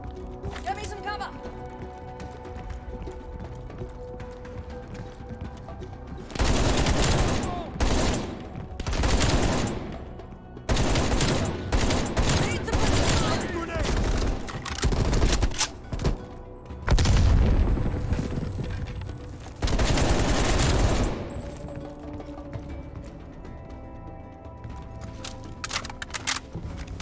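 Gunfire in the video game Call of Duty: Black Ops Cold War: loud bursts of automatic fire and booming shots in dense clusters through the middle stretch, with quieter ambience and shouted voices around them.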